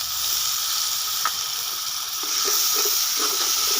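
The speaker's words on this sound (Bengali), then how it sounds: "মশলাটাকে একটু কষিয়ে নেব।" Spice paste of turmeric, chilli powder, ginger, garlic and green chilli paste frying in a pan for a stuffed pointed gourd dish, giving a steady, fairly loud hiss throughout with a few faint spattering pops and no talking.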